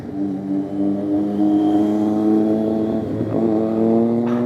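A Triumph Street Triple motorcycle engine drones steadily with a strong rising rev, growing louder as it passes close by, then fading slightly at the end.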